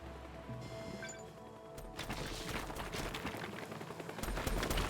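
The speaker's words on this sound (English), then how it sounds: "He's just fucking shooting at me." Gunfire aimed at the player in a Goosebumps video game: after a brief quieter stretch, a dense barrage of rapid shots kicks in and keeps rattling loudly to the end.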